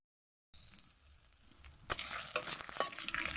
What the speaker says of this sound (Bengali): তেজপাতাটা ভালো করে ভেজে নেব